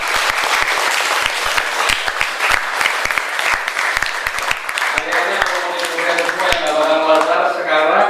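Students at a high school discussion forum clap, at first in loose, distinct hand claps and then in a fuller burst of applause, while voices and chatter carry through the room.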